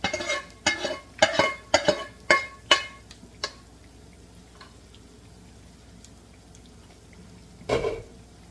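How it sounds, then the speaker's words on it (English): A spoon scraping and scooping pan juices in bean and bacon soup, a series of sharp metallic taps and scrapes in quick succession, then quiet with one more clink near the end. "I like to scoop some of that juice and just scrape all that flavor from the pan and pour it back in there."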